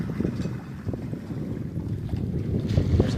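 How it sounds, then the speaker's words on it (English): A fresh east wind buffets a Cape Dory 25 sailboat at sea, a continuous close microphone rumble with gusty low roaring and faint wave wash, no voices. "The wind just picked up coming from the east."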